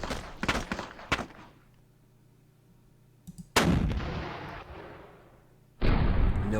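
Tank guns in a Panzer Campaigns Kharkov 42 wargame fire in loud booming blasts, a cluster of quick reports early on, then two heavy shots later, each followed by a long decaying rumble.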